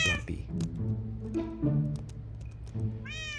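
Flumpy the cat meows repeatedly, a string of short, close, clear meows with brief pauses between them and a longer rising call at the end.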